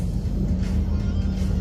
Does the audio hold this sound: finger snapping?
no